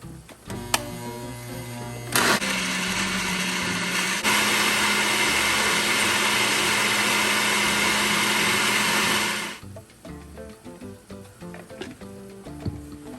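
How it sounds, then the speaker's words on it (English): A blender purees a poblano salsa verde, whirring loudly and steadily for several seconds, then cuts off, leaving quieter kitchen clatter. "I'm going to go ahead and blend that up until it's completely pureed"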